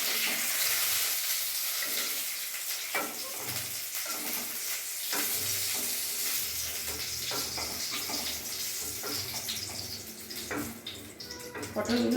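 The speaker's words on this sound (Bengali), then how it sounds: "আমার পটলগুলো ভালোভাবে ভাজা হয়ে গেছে।" Pointed gourd pieces frying in hot oil in a home kitchen, a steady soft sizzle running throughout with occasional clinks and stirring noises, moderately close.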